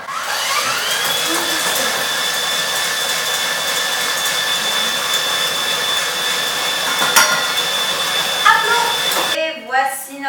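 Electric mixer at maximum speed whipping meringue as icing sugar goes in, a loud steady whine with a rising motor tone that holds for several seconds before cutting off near the end.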